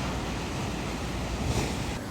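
Surf waves break and wash onto Chuam beach on the Korean coast, a steady close roar of water and wind, with no voices.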